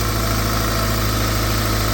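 A Toyota MR2 engine, revived with all four coil packs failed, idles steadily up close, a smooth, even low hum with no voices.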